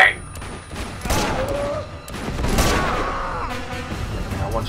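Bursts of gunfire in Uncharted 2 crackle in rapid fusillades, with repeated shots and impacts up close, loud throughout and overlapping one another.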